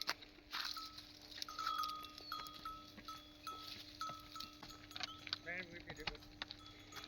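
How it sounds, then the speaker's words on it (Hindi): A herd of cows moving along a hillside path, their cowbells clanking in a faint, irregular, continuous jangle with scattered hoof and movement noises. "तो आधी गायें ऊपर चली गई है, अब आधी गायें आ रही है, आधी गायें नीचे चली गई है।"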